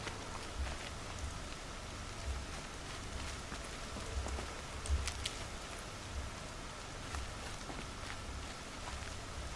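Rain in Horizon Zero Dawn falls as a steady, dense hiss of patter with scattered louder drop impacts and a faint low rumble beneath, continuous for the whole stretch with no talk.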